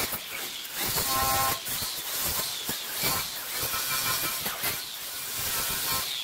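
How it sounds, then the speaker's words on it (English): Scotch-Brite pad scrubbed over a 1964 Impala fender panel being prepped after media blasting, giving a steady loud hissing abrasive rasp with short pauses and strokes, no talking. "Now we're just wiping it off with the Scotch-Brite, or I should say scrubbing it off."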